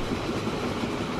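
Train running in the rail-building game Train Fever: a steady rolling rumble with faint clickety-clack, ending in a short louder clatter, with no talking.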